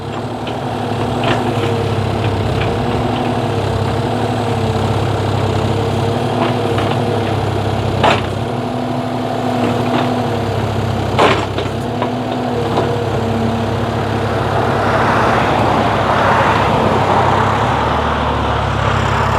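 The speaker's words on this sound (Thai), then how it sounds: "เป็นเครื่องยนต์ตัวนี้เครื่องยนต์คูปต้าเครื่องดีเซล สามสูบนะสามสูบครั" A three-cylinder Kubota diesel engine on a small Kubota KX033 excavator idles steadily throughout, a low rumbling drone with a constant throb, close by, with occasional faint clanks and no voices.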